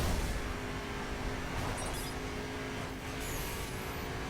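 A Mercedes SLR McLaren 722 Edition driving in the racing game The Crew: a steady, loud engine drone holding at speed with a sustained tonal whine and faint tire noise, uninterrupted for several seconds.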